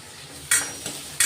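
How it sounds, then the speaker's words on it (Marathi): Onion and curry leaves sautéing in hot oil with asafoetida in a pan, a low sizzle under two sudden bursts of spluttering as ingredients hit the pan, with faint stirring. "तर आता चांगला कांदा परतून घेणार आहेत आपण"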